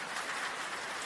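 Light rain falls as a soft, even drizzle, a continuous hiss of drops with no other sounds over it.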